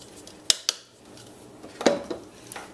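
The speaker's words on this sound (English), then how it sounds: "We're just going to dump all of that in there." Chunky marinade dumped onto sardines in a dish for Caribbean pan-fried sardines, heard as a few sharp clinks of a utensil against the dish followed by a wet, splattering plop, all close and without talk.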